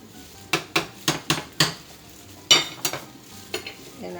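Metal lid and utensil knocks on a pot of Cuban imperial rice, a quick run of five sharp clinks, a pause, then a few more scattered taps over a faint sizzle.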